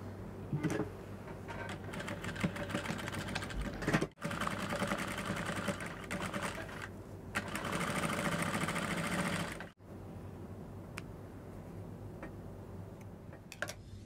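A sewing machine hems the bottom of a cowl neck dress in long, continuous mechanical chattering runs, broken by two brief pauses and ending in a quieter stretch with occasional ticks.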